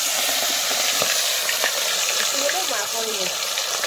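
Bhakur fish frying in hot oil, a steady, bright sizzle that hisses continuously at close range, with a voice speaking faintly over it.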